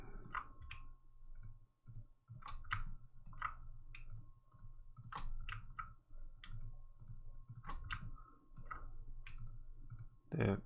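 A computer keyboard gives sharp, irregular clicks over quiet room tone, single keystrokes spaced unevenly with short pauses between them, close by.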